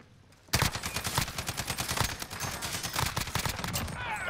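Rapid bursts of automatic gunfire in Warzone erupt after a brief quiet start and keep up as a dense, loud, continuous fusillade of overlapping shots.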